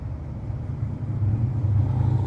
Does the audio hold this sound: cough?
no